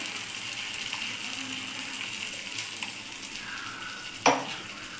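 Ground ginger, garlic and tomato paste are stirred into a simmering egg curry, giving a soft, steady sizzle with faint scraping, then a single sharp clink of a spoon against the pan near the end.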